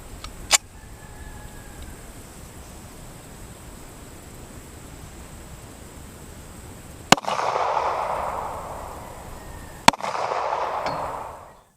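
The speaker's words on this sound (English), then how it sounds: "Okay, so just shot the 45 ACP jacketed hollow point" A full-size 1911 pistol fires 200-grain .45 ACP jacketed hollow points at a 1-inch slab of polyurea outdoors, with three sharp, loud shots spread several seconds apart, the last two followed by a hissing rush of noise.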